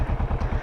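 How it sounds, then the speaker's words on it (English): A Kawasaki Vulcan 650 motorcycle engine throbs in a fast, even pulse of low firing beats, close and loud, as the throttle is eased on for taking off. "you will slowly ease the throttle in, see, and you can take off a little quicker"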